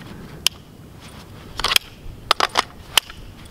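Magazine being handled and seated into a CZ Scorpion on a closed bolt, a few sharp metallic clicks and a brief cluster of rattling snaps, close and distinct against quiet.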